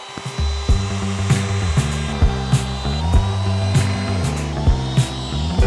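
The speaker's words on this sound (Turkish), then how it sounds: "Şimdi arkadaşlar şu kenarları hafif yumuşatacağım el frezesiyle." A handheld router whines steadily up close, with a series of rhythmic cutting bursts as it rounds the edges of pallet wood, no voices.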